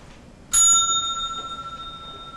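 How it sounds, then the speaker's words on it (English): A single bright bell strike rings out clearly in a quiet setting, its metallic tone decaying and shimmering for about two seconds, heard alone with no talking. "Would you like me to ring the bell? Yeah, we should ring the bell."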